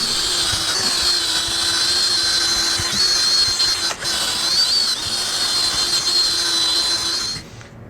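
A power drill runs continuously with a buffing attachment on a Squier guitar, a loud steady high whine that briefly dips midway and stops near the end, close and alone.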